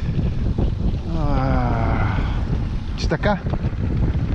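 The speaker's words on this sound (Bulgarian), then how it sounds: "Лошо с това вятър е гадно." Wind gusts buffeting the microphone out on Tsonevo reservoir during a trolling fishing trip, a steady rushing blow heard close, with people talking over it.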